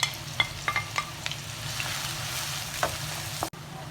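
Sliced onions and green chillies sautéing in a pan of oil with bay leaves and cinnamon, making a steady sizzle broken by sharp spatula scrapes and clicks.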